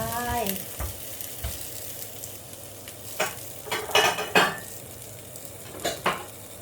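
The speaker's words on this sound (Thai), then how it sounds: "ข้าวต้องขัวพริกก่อน ขัวพริกกับกระเทียม เตรียมไว้" Green chilies and garlic dry-roasting in a pan for a Thai fermented fish roe dip, giving a soft crackle with scattered clinks and scrapes of a utensil against the pan, close by.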